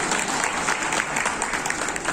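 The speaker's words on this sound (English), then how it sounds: "Can we get a round of applause for Umer, please?" Steady applause from a room full of people, dense and sustained clapping with no pauses throughout.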